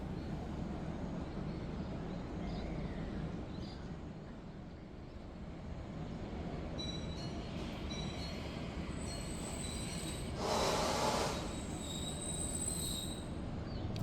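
The KA Gajayana train rolls out of Wlingi station with a steady rumble, and high metallic wheel squeals ring out intermittently, peaking in a brief loud screech near the end.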